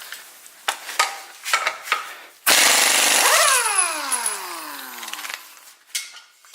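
A Blue Point impact gun with a Lyle socket hammers at a Honda crank pulley bolt: scattered clanks first, then a loud sustained rattling burst whose pitch sweeps downward as the tool winds off, near and dominant.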